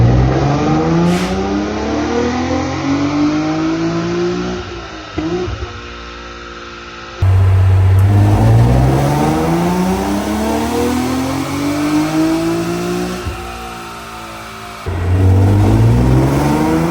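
Tuned 2018 Nissan 370Z engine revving loudly up and down in repeated sweeps, rising pitch climbs and sharp drops, close and dominant with no talk.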